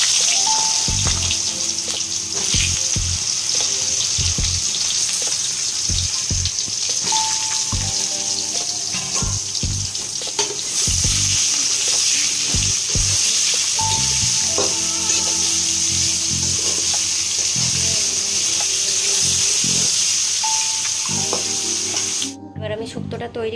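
Eggplant (brinjal) slices fry in hot oil with a bright, constant sizzle, while a spatula scrapes and clinks against the pan in irregular knocks throughout and no one speaks.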